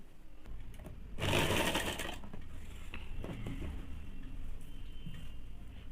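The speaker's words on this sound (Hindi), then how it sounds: "इस प्रकार से पूरे में सिलाई चला देंगे" A sewing machine stitches a two-piece Bombay cut blouse, its close, steady mechanical whir running throughout, loudest in a brief burst near the start.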